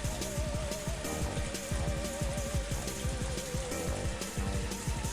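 Steady rain falling in a forest in the visual novel Higurashi, a constant dense patter that stays even throughout, with a faint sustained tone running beneath it and no voices.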